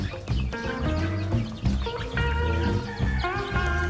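Chickens and chicks on a small farm, continuous overlapping clucking and high peeping from many birds at once, close and fairly loud with no voices.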